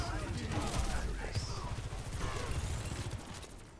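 Gunfire from Overwatch 2 fills the clip, with steady rapid shots and impacts under loud game effects while players talk over it.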